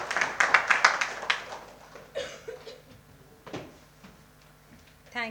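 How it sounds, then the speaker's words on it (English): Audience members at a conference session on generative AI and governance clap in a quick burst of close, sharp claps. The clapping then thins into scattered taps and knocks. "A round of applause for all of you who have joined us at 10 o'clock."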